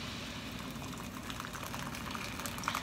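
Water heated in an electric kettle gives a steady, close rolling boil with bubbling hiss across the whole clip and a few brighter pops near the end, no voices.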